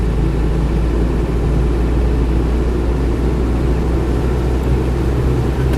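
Land Rover Defender 110 200TDi diesel on the move, a loud, constant low engine and drivetrain drone with road noise filling the cabin, steady with no breaks and no talking.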